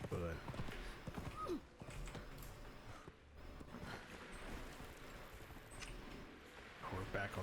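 Horse hooves clip-clopping in the survival game Conan Exiles, a steady rhythmic patter of steps beneath someone talking, moderately close with faint ambient wind.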